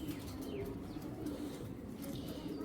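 Racing pigeons cooing, soft low repeated coos close by under faint chirps and light background noise.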